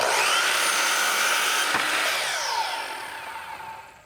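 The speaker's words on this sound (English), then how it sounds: "I'll bevel whatever I need to on the table saw and cut the rest with my miter saw." A table saw and miter saw cut PVC window trim in a workshop, giving a loud, whining power-tool roar that slowly fades as the blade winds down.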